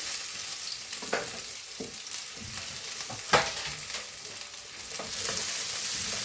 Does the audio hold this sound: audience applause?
no